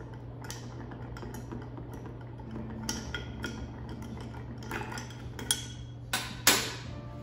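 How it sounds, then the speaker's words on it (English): Bar spoon stirring a Boulevardier in a mixing glass, a scattering of light clinks and ice taps that grow louder toward the end, over a steady low hum. "So you're gonna stir for about 10 seconds."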